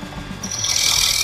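A wood-turning tool scrapes steadily against spinning wood, a harsh continuous rasp that grows louder and brighter partway through.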